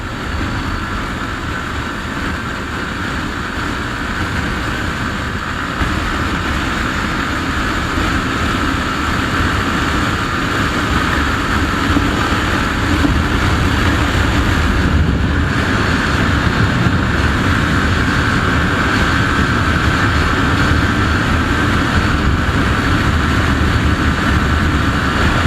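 A Hero Glamour X125 motorcycle runs at top speed in power mode, giving a continuous loud engine drone under strong wind rush that builds slightly and holds steady, with no talk.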